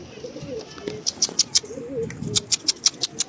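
Pigeons in a coop make low cooing calls, mixed with rapid bright chirps that come in clusters later on, fairly close in a busy, slightly noisy space.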